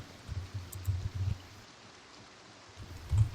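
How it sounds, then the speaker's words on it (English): Rain falling in the Project Zomboid video game, a soft steady low patter with a few slightly louder gusts at the start and end, alone with no voices. "All this rain."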